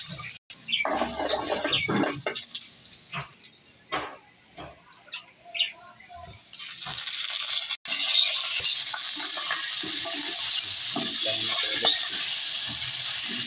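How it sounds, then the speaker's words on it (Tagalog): Garlic is sautéed in cooking oil for pork adobo, making a loud, continuous sizzle with stirring and clattering of utensils throughout. "Ito gisahin natin. Lagyan tayo ng mantika."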